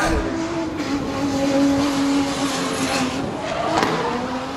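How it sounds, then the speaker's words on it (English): A drift car at a D1NZ Pro-Sport qualifying round at Pukekohe Park Raceway, a loud, sustained engine drone with a rising and falling pitch that sounds steady and fairly near, with no talking. "So Jamie Carr, the next driver, out on track"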